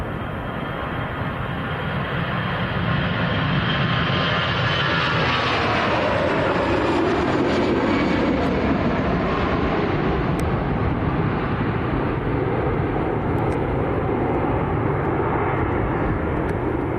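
An EasyJet jet airliner departs Manchester Airport, its engines a loud, steady roar that swells and sweeps past over several seconds before holding as a sustained rumble.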